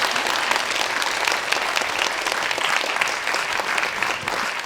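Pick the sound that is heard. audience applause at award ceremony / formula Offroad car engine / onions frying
audience applause at award ceremony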